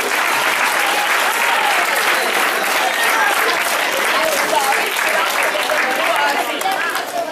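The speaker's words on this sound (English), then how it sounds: "Let's clap for ma'am who's always been so energetic." A crowd at a rugby trophy tour event claps for the teams, loud dense applause sustained evenly throughout with faint voices mixed in.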